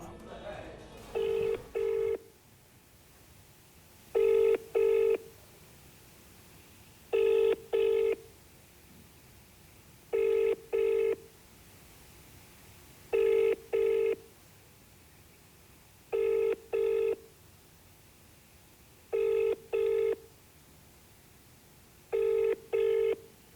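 Ringback tone of an outgoing telephone call repeats in evenly spaced double bursts, loud and clear, continuing for many cycles with a faint murmur of speech beneath the start.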